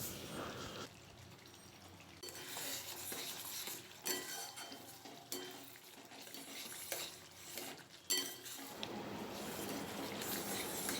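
Egg korma masala with yogurt being stirred and fried in a pan, with steady sizzling and repeated scraping of a utensil against the metal, close and fairly quiet, settling into a continuous fry near the end.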